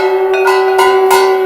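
A temple procession gong, the jhalar, rings with a steady sustained metallic tone, struck repeatedly at a quick rhythm, close and loud, with no voices.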